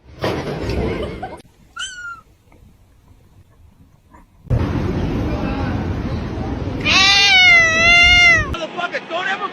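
A kitten meows in high, wavering cries, one short mew early and then a louder drawn-out run of meows near the end, set among bursts of loud talk and background noise.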